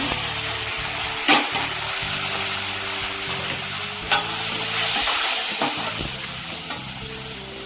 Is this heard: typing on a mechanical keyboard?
no